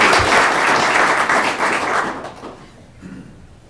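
Dense, loud applause at a county commission work session gradually thins and fades out over a few seconds, honoring employees' service awards.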